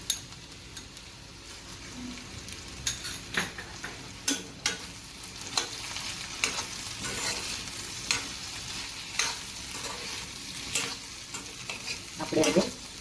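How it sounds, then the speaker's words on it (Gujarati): Potatoes frying with a chili, garlic and cumin chutney are stirred in a pan, a low steady sizzle broken by regular scraping strokes of the spoon, close and quiet with no voices. "હવે આપણે જે ચટણી વાટી અને રેડી કરી હતી મરચાં, લસણ અને જીરાની, એને આપણે આની અંદર એડ કરી દઈશું."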